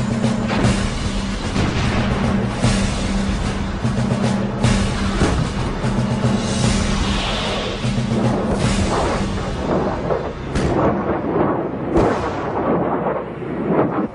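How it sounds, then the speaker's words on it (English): A multiple launch rocket system barrage in the 1991 Gulf War rumbles as a continuous loud, deep roar of rocket fire and distant blasts, with a steady low drone beneath and sharper booms near the end. "artillery barrage onto the Iraqi positions in front of them. One of their key weapons was the multiple launch rocket system."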